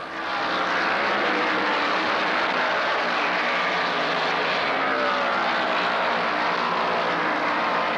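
Stock cars racing at Talladega, including Richard Petty's Hemi and Bobby Allison's Chevy, give a loud, continuous engine roar that stays steady and dense throughout, with no pauses.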